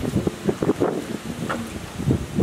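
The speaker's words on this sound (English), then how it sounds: "the wind just slamming into your face." Gusty wind buffets the microphone outdoors beside a duplex in Toledo, Ohio, a steady rumbling roar with surging bursts and no clear talk.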